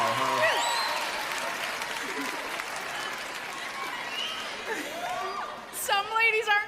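Comedy show audience breaks into applause with scattered whoops, steady clapping through most of the stretch, a bright whistle or cheer near the end and a faint voice under the crowd.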